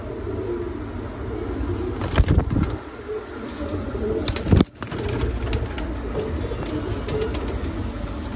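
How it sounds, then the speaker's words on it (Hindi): Punjabi pigeons in a stock of ten coo repeatedly up close, with soft wing flutters and a couple of sharp knocks mixed in. "सारे पंजाबी कबूतर, उड़े बड़े कबूतर सारे"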